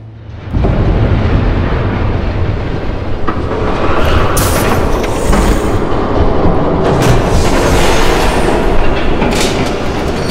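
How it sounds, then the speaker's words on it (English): A train rushes past in Batman: The Telltale Series, a loud, sustained roar with rhythmic clattering wheels and bright metallic squeals rising partway through, heard up close with no talking. "There's a train coming."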